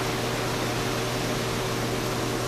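A maple sap vacuum pump runs steadily at a sugarbush, giving a continuous mechanical hum with a low tonal drone and broadband hiss, constant and close with no voices.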